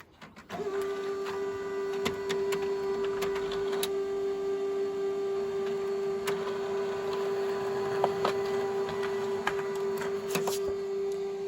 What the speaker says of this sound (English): I'm just going to feed my color paper into my printer